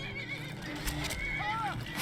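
Halvar's horse in Skyrim lets out a whinny over combat and hoof clatter, with a sharp neigh rising and falling near the end, and talk mixed in.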